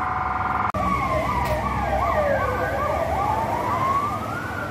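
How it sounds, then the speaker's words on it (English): Wailing ambulance sirens pass along a street in the Bo-Kaap area of Cape Town, a loud continuous rising-and-falling yelp with steady traffic rumble underneath and no talking. "Must be an accident up here because the ambulances are running up now."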